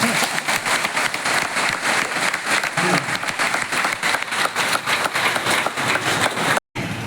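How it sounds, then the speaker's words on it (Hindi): Children at a school in Sahaspur clapping and applauding together, a loud, sustained rhythmic wave of many small hands that continues almost without pause, briefly dropping out near the end. "उनके सम्मान में बच्चे इतनी ताली बजाएंगे कि आवाज बाहर चली जाएगी। एक बार फिर बजा दीजिए।"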